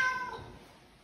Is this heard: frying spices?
no